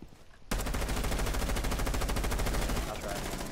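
Sustained rapid automatic gunfire in Rainbow Six Siege, a dense fast rhythmic stream of loud, close shots starting abruptly and continuing for about three seconds.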